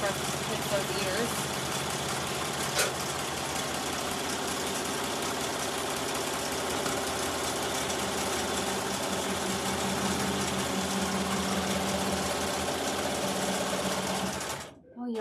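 An embroidery machine stitches the ears of a squishy pig stuffie in the hoop with a steady, close mechanical whirring and rapid needle chatter that continues unbroken and stops at the very end, with people talking faintly underneath.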